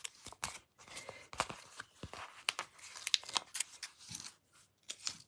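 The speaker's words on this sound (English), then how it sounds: "Would say, peel this backing off here. And then peel this off." Backing sheet being peeled off a sheet of rubber stamps, quiet close crackling and tearing bursts in short irregular pulls separated by pauses.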